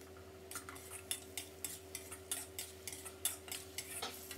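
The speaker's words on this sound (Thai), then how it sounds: "ให้เราผัดให้เข้ากันนะครับผัดให้เครื่องปรุงละลายเข้ากันเลยครับ" Sauce of oyster sauce and water with seasonings being stir-fried in a pan for a Thai tofu dish, heard as steady rhythmic scraping and clinking of a utensil against the pan, fairly faint, with no talk.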